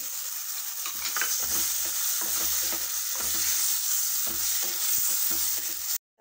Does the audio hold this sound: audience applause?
no